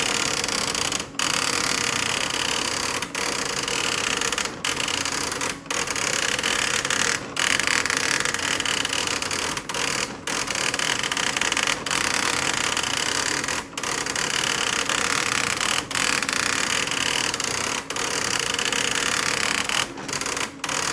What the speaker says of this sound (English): Here's printing a full page of text.